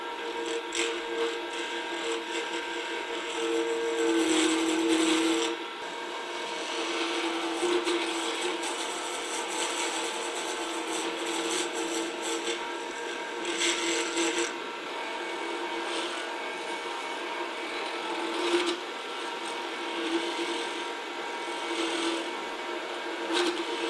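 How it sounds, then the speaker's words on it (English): A wood lathe running near its top speed of about 3800 rpm turns a segmented pen blank while a tool takes off the high spots, giving a continuous scraping, rasping hiss with uneven surges, close and steady throughout. "I'm going to up the lathe as fast as it goes, which is about 3800"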